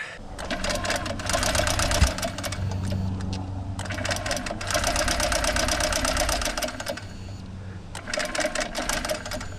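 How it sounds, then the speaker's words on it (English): A 2023 Honda CB125F motorcycle engine with damaged valves runs unevenly with a rapid mechanical clatter and ticking, loud and close, with the revs rising and dipping throughout. "you can definitely hear there's something wrong with the valves there"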